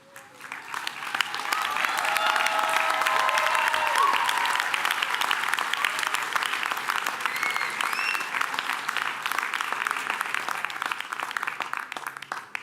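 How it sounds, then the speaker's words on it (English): Audience at a culinary arts school commencement clapping steadily for the rising graduates, a sustained even wash of applause that swells in the first seconds and holds without a break. "I hope you all enjoyed clapping"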